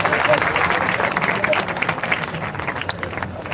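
Audience clapping at a stage show during a Chhattisgarhi Aathe festival event in Patan, a steady wash of applause throughout with a voice speaking over it.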